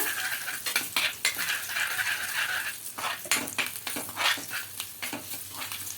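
Turmeric and Kashmiri chili powder get stirred into a pan of mustard hilsa, the spoon scraping in busy, irregular strokes over a soft background sizzle, with no voices.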